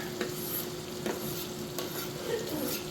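Onion, garlic and chili pepper hit crisping pancetta in a pan, giving a steady close sizzle with a few soft stirring scrapes and taps at intervals, with no talking.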